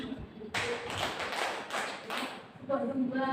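A classroom group claps in a concentration game, producing several quick, loud bursts of hand claps in close succession, with voices speaking around them.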